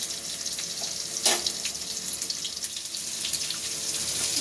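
Water runs from a tap into a bowl of spice paste for a fish curry, a steady close splashing stream with a brief louder gush, no voices.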